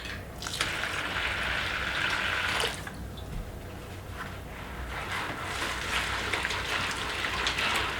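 Water pours steadily into a container of chicken feed, a continuous rushing splash that briefly eases before pouring strongly again.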